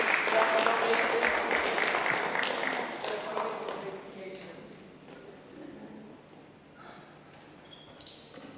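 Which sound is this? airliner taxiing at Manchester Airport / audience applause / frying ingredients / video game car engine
audience applause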